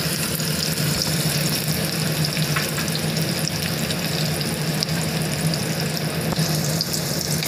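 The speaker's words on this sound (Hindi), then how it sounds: "अब हमने उसे तड़का लगाने के लिए यहाँ पे ऑयल डाला है सबसे पहले डालेंगे ऑनियन" Steady, dense sizzling of onion frying in hot oil for dal makhani continues throughout with a faint crackle, with no talking.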